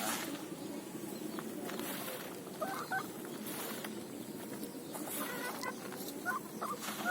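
Chickens clucking steadily while queueing for fermented feed, several birds calling over a dense barnyard murmur, with no talk.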